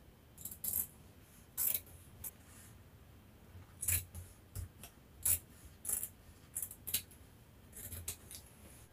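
Scissors cutting out skirt fabric for a pencil skirt, close crisp snips coming in irregular bursts over a quiet background, with no talking.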